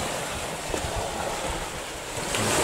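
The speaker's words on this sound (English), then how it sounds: "It's proper little waves we're getting." Small waves breaking on a beach give a steady broadband wash of surf with some wind rumble, fairly close and continuous, swelling slightly toward the end, with no talking.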